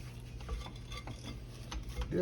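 A spatula clicks and scrapes in quick, light strokes against a mixing bowl as chocolate buttermilk cake batter is scraped down. The sounds are soft and close, with a louder scrape at the end.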